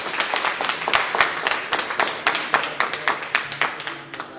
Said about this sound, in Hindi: सबसे पहले मैं चाहूंगा कि आप सर के सम्मान में जोरदार तालियां बजा दें यहां पे